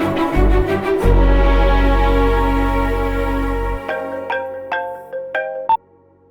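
A phone rings in a Hindi-dubbed South Indian movie scene: a steady, loud tone gives way to a repeating electronic ringtone melody of short, clear beeps that stops abruptly.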